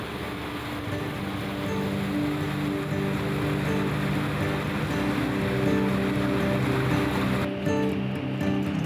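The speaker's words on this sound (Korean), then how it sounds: "배가 우렁찬 엔진 소리와 함께 오늘의 목적지로 출발하자" A hospital ship's engine runs as it departs on rounds to island villages, a steady, loud low drone with water and wind noise around it, holding at even level throughout.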